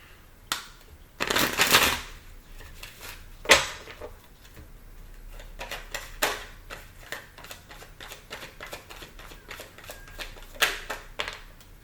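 Tarot cards being shuffled by hand, a run of quick papery riffles and slaps up close, with louder bursts near the start and scattered softer taps after.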